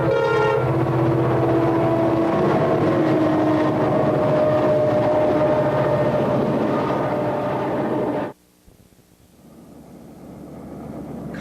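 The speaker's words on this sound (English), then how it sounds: "a northbound rolls out of Linwood Yard with SD60s, 6609 and 6581 on the point" A northbound Southern Railway freight train rolls out of Linwood Yard led by SD60 diesel locomotives 6609 and 6581. Its horn blares loudly over the rumbling diesel engines, then the sound cuts away sharply to a quieter rumble near the end.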